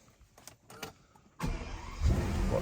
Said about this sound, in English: Power on the 640 horsepower W12 engine.